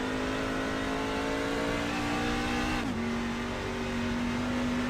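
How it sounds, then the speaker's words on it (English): A race car engine in the iRacing sim drops through a downshift at Milwaukee Mile, its steady loud drone dipping briefly and then settling at a new pitch, with no talk over it. "There's the downshift."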